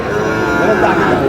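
A Sahiwal bull lowing at a cattle market, one loud, close, sustained moo filling the short moment.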